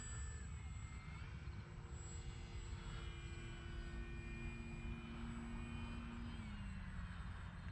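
An FMS Ranger 1800mm radio-controlled airplane comes in to land after a morning flight, its electric motor giving a steady droning whine at a distance under a constant wind-like background, with the pitch sliding lower near the end.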